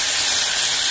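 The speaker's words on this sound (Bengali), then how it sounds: "এবার আমি ঢাকাটা তুলে দেখে নিচ্ছি মাছগুলো ভাজা হয়েছে কিনা" Fish frying in hot oil in a pan as the lid is lifted, a loud, steady close sizzle and hiss filling the moment without pause.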